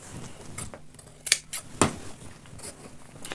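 Scissors snip at the raw edges of African-print satin fabric for a tote bag, giving a few sharp, close clicks and cuts scattered between quiet rustling of the cloth.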